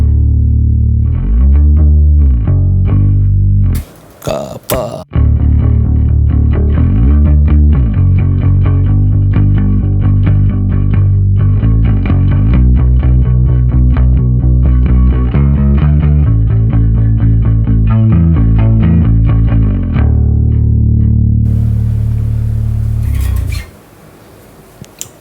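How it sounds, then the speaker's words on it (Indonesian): Bass guitar run through an octave effect pedal, played live with a band setup, giving a thick, doubled low tone with effects coloring; a steady riff of notes plays loudly and continuously, with a brief break near the start. "di sini suara oktav bunyinya seperti ini"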